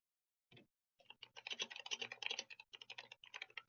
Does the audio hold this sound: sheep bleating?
no